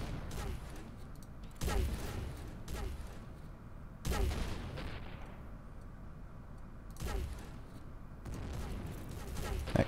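Spaceship cannons in the space game Avorion boom in separate volleys about every two to three seconds, each a faint, rumbling blast over a low ongoing background.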